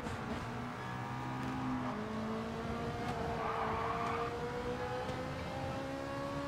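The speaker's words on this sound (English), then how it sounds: "I didn't hit the brakes good enough there. I almost went off the track." A race car in a racing video game drives around a track, its engine holding a steady whine that rises slowly in pitch as it accelerates. Faint tire noise sits under the engine, with no speech.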